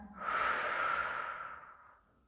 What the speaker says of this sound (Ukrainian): От я коли дихаю. Добре відчуваю дихання назад в ребра.